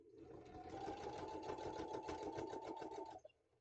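A sewing machine runs steadily while top stitching a quilt border in black thread, a loud, continuous mechanical whir with rapid needle rhythm for about three seconds before stopping abruptly.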